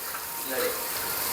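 Vegetables for homemade egg fried rice sizzle steadily in a hot pan, a close, continuous frying hiss with faint stirring.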